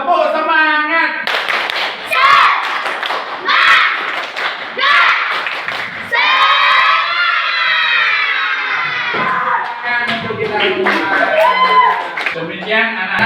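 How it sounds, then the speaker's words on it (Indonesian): A classroom of children does a rhythmic spirit clap, bursts of patterned hand clapping mixed with loud chanting and shouting voices, close and energetic throughout. "Ya, tepuk semangat."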